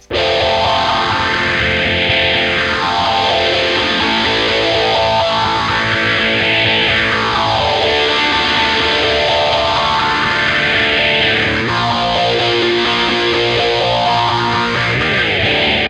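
Distorted guitar drones continuously while a phaser sweeps slowly up and down in repeating waves, loud and close with no talking.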